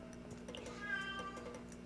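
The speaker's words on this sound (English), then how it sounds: "It's my cat, sorry." A pet cat gives a short, faint meow close by in a quiet room, a single brief call over a low steady background hum.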